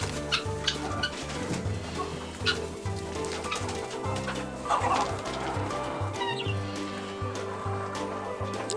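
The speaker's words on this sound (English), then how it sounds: "We got some chickens and guineas in here." Chickens and guinea fowl cluck and chatter continuously close by, with occasional sharper calls rising over a steady low barnyard hum.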